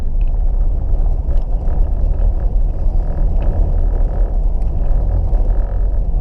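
Third-generation Pontiac Firebird V8 idling at about 1,000 RPM, a steady loud low rumble that runs unbroken from start to finish, with faint rattling or flapping noises on top and nobody speaking.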